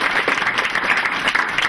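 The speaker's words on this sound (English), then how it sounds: "one more round of applause for" Steady applause from the audience at a school board of education meeting, a continuous wash of clapping with no pauses, fairly loud and close.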